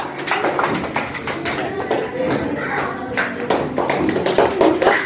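A small group of people in a class claps for a presenting group, producing a loose, uneven patter of distinct individual hand claps with sporadic louder slaps.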